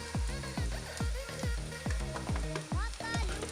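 Curry leaves and onion fry in oil for a Trivandrum-style fish curry, giving a crackling sizzle punctuated by a regular series of sharp thuds and spatters.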